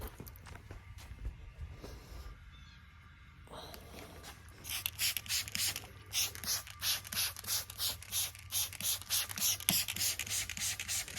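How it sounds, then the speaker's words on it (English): Rapid repeated spritzes from a trigger spray bottle of water soaking a rag, rhythmic hissing bursts after some quieter handling noises. "So I use a spray bottle. I'm gonna get it all soaked here."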